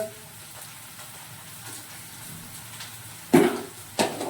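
Potato frying in a pan gives off a soft, steady sizzle throughout, with two sharper clatters near the end that rise above the low hiss.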